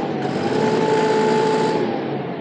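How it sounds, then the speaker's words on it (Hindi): A John Deere 63 HP tractor with a BS-4 engine runs at a steady, fairly loud pitch, with a constant mechanical whine over a broad engine roar. No talking is heard. "ट्रैक्टर का जो इंजन है 2100 RPM तक वर्क करता है"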